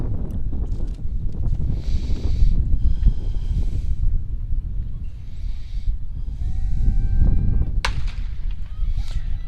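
A starting pistol fires once for the JV boys 400-meter dash at an outdoor district 31-2A track meet prelims, a single sharp crack amid heavy wind noise.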